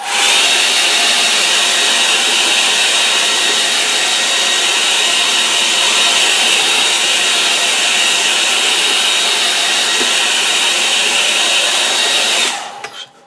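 A hair dryer blows over a freshly painted watercolour, a loud, steady, close whooshing roar that holds unchanged for about twelve seconds before cutting off.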